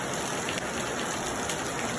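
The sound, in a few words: heavy rain falling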